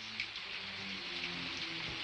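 Steady rain falls outside a house, a continuous hiss of drops patters on surfaces at an even level, with no voices over it.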